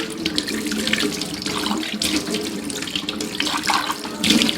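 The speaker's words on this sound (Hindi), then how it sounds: "फिर थोड़ा सा गर्म पानी लेके और उसको अच्छी तरह से इस तरह से जो है गिलासों में वो चमक भी आ जाती है" Warm tap water runs steadily into a kitchen sink while drinking glasses are washed, a close, continuous splashing stream with brief clinks and gurgles as the glasses are moved under it.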